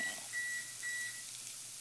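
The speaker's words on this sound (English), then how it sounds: "So I'm going to set my timer" Kitchen timer emits a few short electronic beeps while being set, thin and fairly faint, in two or three evenly spaced tones over a steady low hum.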